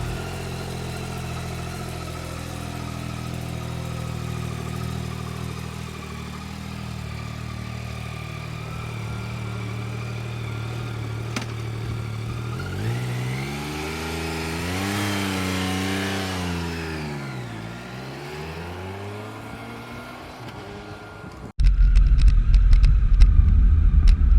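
A Yamaha XSR900GP motorcycle holds a steady engine hum, then revs up and down in a smooth swell, close and clear, before an abrupt burst of wind and road noise takes over at the end.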